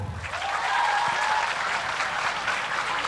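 Audience applause at a Quran memorization (tahfidz) demonstration during a pesantren haflah, a steady dense clapping throughout with a brief whistle-like tone early on.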